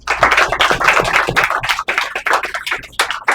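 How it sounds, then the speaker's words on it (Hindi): Close, loud clapping from a small audience at a stage-fear workshop, with distinct individual claps in an uneven, rapid rhythm throughout. "तालियां हो जाने के लिए"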